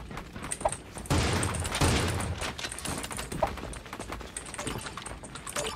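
Gunfire in the shooter game Creative Destruction, a dense fusillade of rapid shots running steadily through the whole stretch, loud and continuous with some sharper bursts, without anyone talking.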